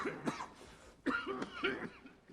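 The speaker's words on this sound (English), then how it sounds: "long have you had that cough?" Several harsh coughs, a short burst at the start and then two or three louder coughs close together, up close and with no talking.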